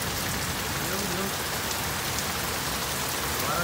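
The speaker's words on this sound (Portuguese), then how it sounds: "Agora veio a chuva, agora a chuva continua" Steady rain falling during a long-running thunderstorm in Santo Ângelo, Rio Grande do Sul, Brazil, a constant dense hiss of drops on surfaces throughout, fairly close, with no thunder clap standing out.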